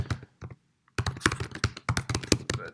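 Quick bursts of keystrokes on a computer keyboard enter a password: a few isolated taps, a short pause, then a rapid close run of clicky presses.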